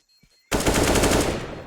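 Sudden rapid burst of Counter-Strike (CSGO) gunfire erupts after near silence, a loud, dense stream of close shots continuing to the end.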